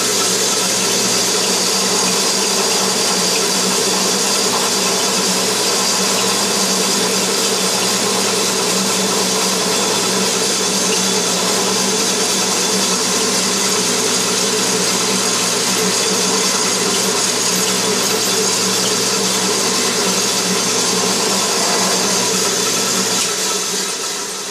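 A reamer turns in a drill press, cutting a hole in a metal workpiece for a Stirling engine shaft, giving a steady, loud mechanical whir and hum that runs unbroken from start to finish with no talk.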